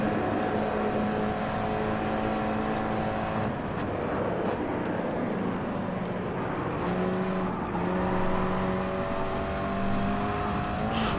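A race car engine in the GT Sport racing game on PS4 Pro drones steadily and accelerates through shifting pitches, heard faintly with no talk over it.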